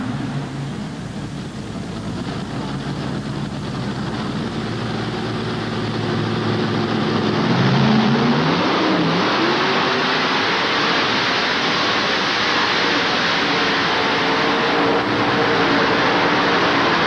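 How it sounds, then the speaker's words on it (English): A modified dragster pulling tractor with multiple engines at a 1988 national tractor pull in Louisville, Kentucky, gives a loud sustained roar that builds and holds with a broad, harsh rumble, and no talking. "the nation's 7 best modified dragster tractors, and we're ready for the action to start"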